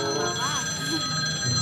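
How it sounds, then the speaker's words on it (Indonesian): A telephone rings with a steady electronic tone that runs throughout, while a voice speaks over it in the background. "Aduh, telepon nih."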